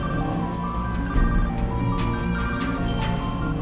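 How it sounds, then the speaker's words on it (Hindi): A phone ringtone repeats in short electronic bursts over a dense background of music and noise. "उसके फोन पर डीएसपी का फोन आ रहा है भाई"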